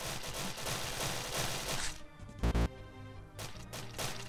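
Rapid, dense pistol gunfire echoes against an oncoming enemy wave in the game Endless Horde, firing continuously for about two seconds. A short gap follows, then a sharp, loud burst and more steady shooting.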